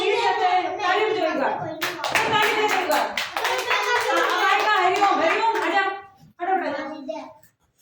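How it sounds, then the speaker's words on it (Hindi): Children clap their hands together in a classroom storytelling activity, a burst of close, lively claps mixed with kids' voices, ending briefly before a short final patter of clapping. "ताली बजाओ एक बार, ताली बजाओ एक बार।"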